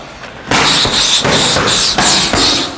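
Kickboxing strikes land on pads in quick succession, six or so sharp loud smacks in an uneven jab-hook-uppercut rhythm, close and crisp with no talk over them.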